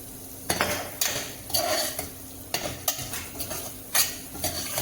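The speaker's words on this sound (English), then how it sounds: "now we'll be adding 1 tablespoon of ghee to it" Ghee going into a pot of chicken pulav on the stove, with repeated metal spoon scrapes and clinks against the pan over a soft sizzle, close and irregular.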